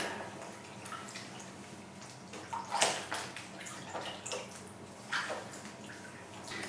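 Water sloshes and splashes as an item is soaked and pushed under in a basin, with irregular gurgles and small splashes, fairly faint and close, and no talk.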